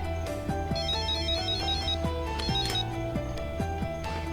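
A cell phone ringtone plays as a trilling electronic pattern in repeated short bursts over a busy musical background, steady and fairly loud.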